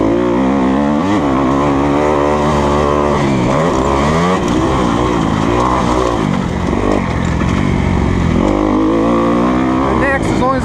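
A 2020 Kawasaki KX250F motocross bike is ridden on a woods track and downshifts mid-jump. The engine note drops and climbs in steps, a loud, constant, close buzzing roar that fills the whole stretch.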